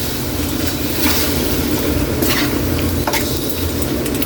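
Squid for adobo sizzles loudly in a hot pan, a dense continuous frying crackle with a few brief stirring scrapes and clatters, with no voices.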